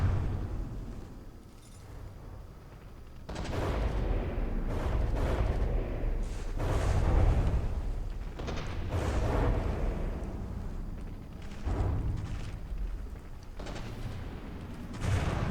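Rapid-fire cram cannons blast during a From the Depths battleship tournament round, a dense run of deep, rumbling booms layered close together, loud and continuous with brief gaps between volleys.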